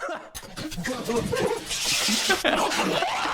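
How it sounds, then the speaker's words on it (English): Dogs in God of War Ragnarök yip, whimper and bark in quick overlapping bursts, mixed with a voice talking and other game sounds. "The dogs keep barking."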